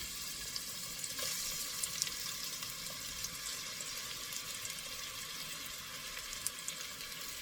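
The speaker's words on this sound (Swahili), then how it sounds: "hakikisha unakaanga kitunguu chako vizuri" Onions fry in hot oil in a cooking pot, a quiet, continuous sizzle with small crackles popping up now and then, heard alone.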